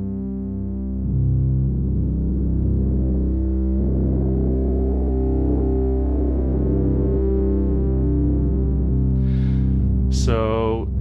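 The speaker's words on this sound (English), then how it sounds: "Changes the level basically of the two drones together." Thick, sustained Eurorack modular synthesizer drones hum steadily with slowly shifting harmonic tones, loud and continuous, ending in a sharp electronic burst.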